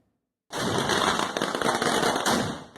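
Fireworks crackle and pop in a rapid, dense barrage at a temple fireworks display, erupting suddenly after a moment of silence and continuing loudly.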